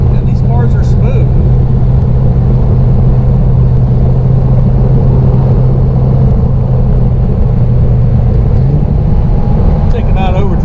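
A 1959 Austin Healey 100-6 runs fast in overdrive, giving a steady low engine drone with a continuous rush of wind over the windshield. The sound stays loud and even throughout, with no talking.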